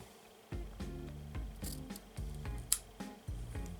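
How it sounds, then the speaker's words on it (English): Scissors snip through the tie yarns of a handmade chevron friendship bracelet, giving a run of about seven close, crisp cuts in a steady rhythm with soft rubbing between them. "now let's cut the tie yarns"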